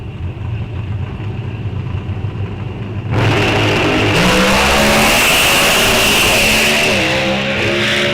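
A drag race car with a 500 cubic inch fuel-injected racing gasoline engine rumbles at idle, then blasts into a sudden deafening full-throttle roar that holds steady and close for several seconds.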